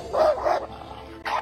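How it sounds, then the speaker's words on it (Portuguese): A pitbull barks at a snake, two loud close barks in quick succession followed by a pause and a third bark. "o cachorro latiu para ela, avisando-a para sair de seu território"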